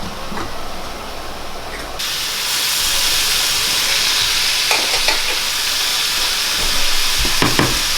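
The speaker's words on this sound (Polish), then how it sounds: "I to pod przykryciem się dusi." A loud, steady sizzling hiss of mushroom soup stewing in a covered pot, with a few clinks and bumps of utensils partway through.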